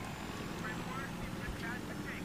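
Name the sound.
scout helicopter flying in Battlefield 3 video game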